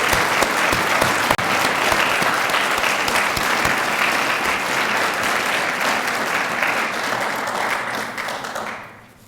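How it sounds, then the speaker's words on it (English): A crowd at a recruit firefighter training academy recognition ceremony applauds the graduates with steady, dense clapping that holds for about eight seconds, then fades out near the end. "let's give a big round of applause to the graduates"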